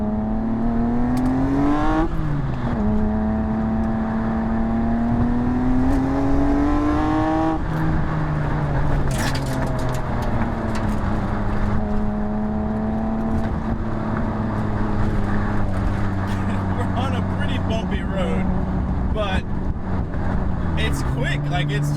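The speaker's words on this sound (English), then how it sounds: "trying to talk over a really loud exhaust." A Nissan Skyline's engine drones loudly and continuously, its pitch rising and falling with revs, a deep rumble from a loud exhaust throughout.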